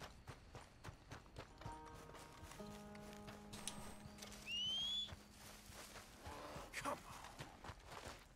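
Horse hooves clip-clop at a run in Red Dead Redemption 2, fairly faint and distant, with tonal game-like sounds and a rising whistle layered over them.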